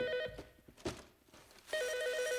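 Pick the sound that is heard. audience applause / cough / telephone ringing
telephone ringing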